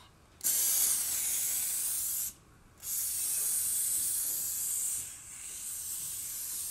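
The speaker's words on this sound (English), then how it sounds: "now I'm gonna spray this" Three bursts of hissing spray from an aerosol can, the first two long and steady, the last softer, separated by brief pauses.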